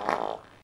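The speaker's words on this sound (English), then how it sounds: "let out a loud fart" A loud fart sound effect from an audio drama: one short, blaring blast that peaks early and trails off within about half a second before silence.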